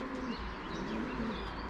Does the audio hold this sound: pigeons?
yes